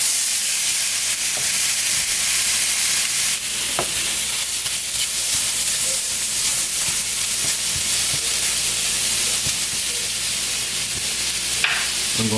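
Shrimp going into a bubbling pot of Cajun chicken, shrimp and chicken sausage jambalaya with rice, giving a steady close sizzle and hiss with a few soft stirring clacks and no talking.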